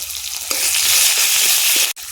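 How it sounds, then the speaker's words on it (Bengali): Chopped onion and garlic paste fry in hot oil with black cumin, a loud, dense close-up sizzle with a few soft stirring taps, cut off abruptly near the end. "পেঁয়াজ রসুনটা লাল লাল করে ভেজে নিয়েছি"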